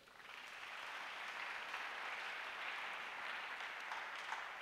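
A church congregation claps steadily during a sermon, with dense, sustained applause that fills the room at an even level from start to finish and no voice above it.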